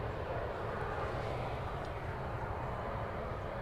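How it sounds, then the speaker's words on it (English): A distant Airbus A320 on approach to Manchester Airport makes a faint, steady low rumble that hangs in the background without change. "And we've got an Airbus 320"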